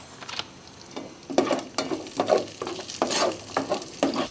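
Pork adobo with tausi sautéing in a pan, with bursts of sizzling and the scrape of a spoon stirring in uneven strokes, close up and moderately loud.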